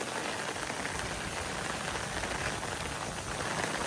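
Heavy monsoon downpour in Bodeli, a dense, unbroken hiss of rain on surfaces, steady and enveloping from start to finish with no voices.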